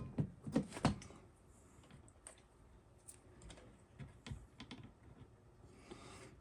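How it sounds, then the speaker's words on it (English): Pliers crimping a wire wrap on a component lead while recapping an EICO 150 vintage electronics unit, heard as a quiet cluster of small sharp clicks and taps, then scattered faint ticks, close by with no talking. "Give it a nice little crimp."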